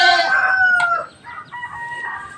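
Rhode Island Red rooster crowing close and loud, one long strained call followed by a second, fainter crow, with no talk over it.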